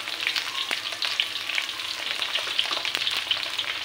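Ridge gourd with chopped onion, ginger, garlic and salt fries steadily in a pan, giving a continuous close sizzle with scattered stirring clicks and scrapes throughout.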